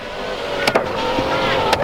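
Power windows on a Mazda 929 Turbo Coupe that sat for over 15 years, a steady close motor whine running throughout with a couple of short clicks or knocks.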